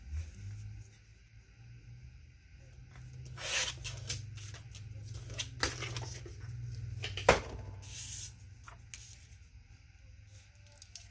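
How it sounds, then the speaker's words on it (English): Creative Memories personal paper trimmer slicing through paper: faint, quiet scraping and rubbing strokes in short bursts, with a low steady hum underneath and one sharp click partway through. "this little trimmer here is from Creative Memories, and I think it's just called a personal trimmer"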